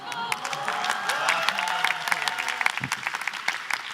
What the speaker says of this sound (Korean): 저 닮으면 어떡하려고 박수 치세요